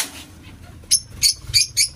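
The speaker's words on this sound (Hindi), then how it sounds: "माशाल्लाह तोते आ गए हैं खाने के लिए" Parrots arrive to eat and give a quick run of short, high chirping calls, four or five bursts over two seconds, close by and moderately loud against quiet surroundings.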